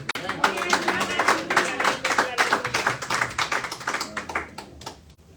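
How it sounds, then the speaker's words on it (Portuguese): A church congregation claps in praise, a dense burst of sharp, overlapping handclaps that continues for several seconds and then thins out toward the end. "Dá um aplauso ao Cristo, igreja"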